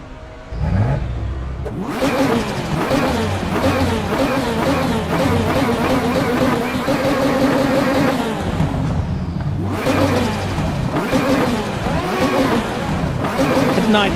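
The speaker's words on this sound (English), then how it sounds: "There's a Formula 1 car on track" Formula 1 car on slick tyres in a racing video game, its engine revving up and down through rising and falling tones, loud and close, steady throughout with occasional talk.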